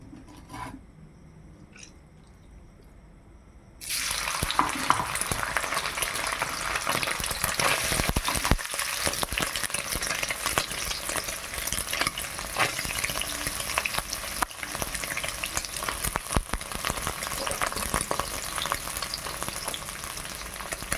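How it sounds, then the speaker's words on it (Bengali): Soybean chunks frying in oil in a wok, a loud close continuous sizzle that starts abruptly after a few seconds of quiet and holds steady throughout. "সয়াবিনটা আগে ভেজে নেই।"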